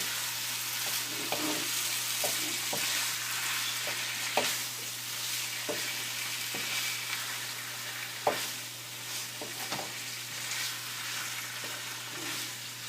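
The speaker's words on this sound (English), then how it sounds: "I'm going to add the keema, because the keema needs to be fried properly" Minced keema fries in a pan with a continuous moderate sizzle, punctuated by irregular spatula scrapes and sharp taps against the pan, heard close with no talking.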